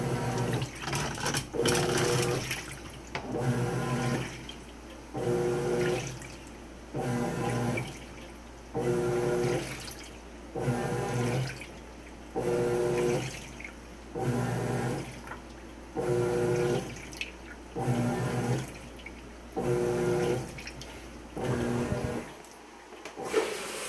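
Water churning inside a washing machine on a cold wash cycle, sloshing in regular rhythmic pulses about every two seconds as the drum turns back and forth, close and steady with a faint hum between pulses.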